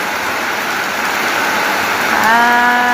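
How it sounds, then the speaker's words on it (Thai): Heavy rain pours down steadily outdoors in a loud, even wash of noise, with a faint tonal hum rising briefly near the end. "ฝนตก ไปทางใดบ่ได้"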